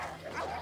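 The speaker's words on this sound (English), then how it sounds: "So much dogs." Dogs barking in the PlayStation 4 Pro game Assassin's Creed Odyssey, muffled overlapping barks and yips mixed into a dense, steady game soundscape without clear individual bursts.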